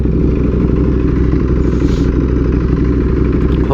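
A Ducati Panigale V4R with an SC Project exhaust runs on a dyno and over-revs in a loud, continuous, close engine drone with a rough, clattering texture.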